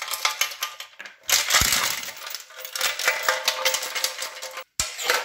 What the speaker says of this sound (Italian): Adesso andiamo anche a rimuovere i dadi e le ranelle.